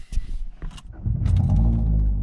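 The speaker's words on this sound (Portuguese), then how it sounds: "Olha o cold start." A Citroën DS3 engine cold-starts in a workshop: a few sharp clicks and brief cranking, then the engine catches and settles into a loud, steady low rumble.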